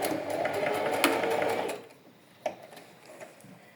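Sewing machine running a zigzag stitch to join two pieces of elastic, a steady close motor whir for nearly two seconds, then stopping, followed by faint handling clicks and a brief tap.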